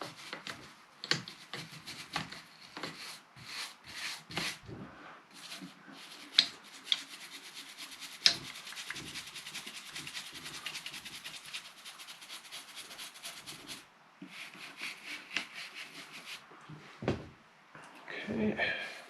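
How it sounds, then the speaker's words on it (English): A stiff brush scrubs the Alcantara suede grip of a Fanatec Podium F1 sim racing wheel with firm pressure, making repeated rasping, rubbing strokes in uneven bursts, near and fairly loud, with brief pauses between passes. "give it a good scrub with this, using more pressure than I did before"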